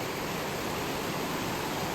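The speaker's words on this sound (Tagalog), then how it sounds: "Maulan doon sa kabundukan, kaya sobrang taas ng tubig guys." A high river rushes after heavy rain in the mountains, a dense, steady roar of water filling the whole scene without pause or voices.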